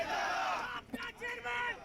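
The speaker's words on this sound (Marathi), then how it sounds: "एकच वादा अजितदादा यांचा आला रे आला दादाच आला अशा घोषणाबाजी देखील करण्यात येत आहेत" Supporters celebrating a sugar cooperative factory election win in Malegaon chant slogans together: a loud, close crowd of voices shouting in rhythmic bursts.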